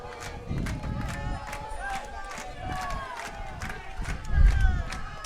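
Argentina fans cheer at a Masters' 45+ soccer match between the USA and Argentina, a distant crowd roar with rising chants, plus a louder swell near the end.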